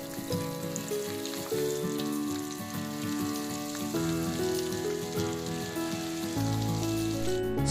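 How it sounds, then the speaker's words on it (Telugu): Masala-coated fish pieces deep fry in plenty of hot oil, giving a dense, steady bubbling sizzle that runs unbroken and close throughout, with a faint tonal hum underneath. "ఆయిల్ వేడెక్కాక చేప ముక్కల్ని ఇలా జాగ్రత్తగా ఆయిల్లో వేసుకోవాలి."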